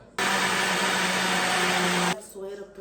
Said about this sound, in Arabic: هضربه بقى كويس في الخلاط